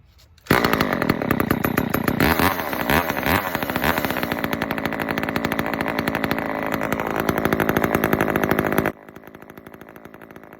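A vintage Homelite chainsaw fires after a choked cold start and runs loud and close with a rapid buzzing two-stroke rattle. It blips its throttle briefly, then cuts out near the end.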